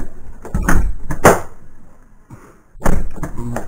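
A Chrysler Sebring side door with worn, loose hinges swings shut with a couple of sharp thuds, and a short rattle follows after a pause, all close and fairly loud.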